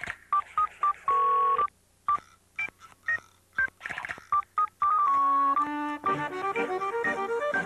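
A Motorola flip phone from Cantel dials out, a series of short, distinct keypad tones followed by a longer run of clear, evenly spaced dialing beeps in a 1990s commercial, with no speech over it.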